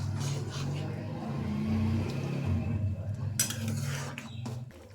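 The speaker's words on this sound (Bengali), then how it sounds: "চিংড়ি দিয়ে এখন ভালো করে মিশিয়ে নিতে হবে।" Fried prawns are stirred into a simmering potol curry in a pan, the utensil scraping and clinking against the metal over a low bubbling hum, with no voices.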